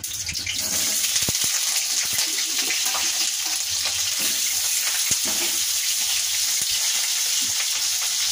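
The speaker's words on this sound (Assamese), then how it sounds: "এতিয়া আলুটো প্ৰথমতে অলপ ভাজি ল'ম" Potatoes sizzle and crackle in hot oil, a steady frying hiss with occasional clicks of a utensil stirring the pan.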